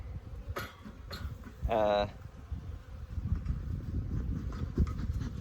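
Honey bees buzz in an opened beehive as a constant low drone close by, with a louder, nearer buzz passing briefly and a few faint clicks and handling noises.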